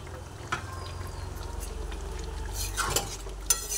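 Pieces of Sankar fish are dropped one by one into a simmering curry, a low bubbling simmer with soft clinks and splashes, growing a little louder near the end.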